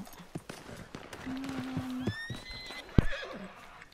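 A horse in the video game Red Dead Redemption 2 whinnies in a long rising-and-falling neigh amid clip-clopping hooves and a sharp thud, with faint talk in the background.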